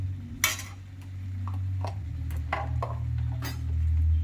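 Spoon scraping and clinking in a pot as green chili paste is stirred into a yogurt chicken curry, several irregular taps over a low steady hum.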